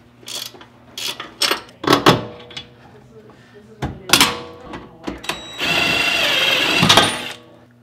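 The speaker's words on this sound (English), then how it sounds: "use a 17 millimeter socket and a 19 millimeter wrench to remove the bolt on the bottom of the shock" Ratcheting clicks from a 17 millimeter socket wrench loosening the lower shock bolt on a Lexus IS come in quick bursts, followed by a longer grinding rattle, close up, with a voice speaking over part of it.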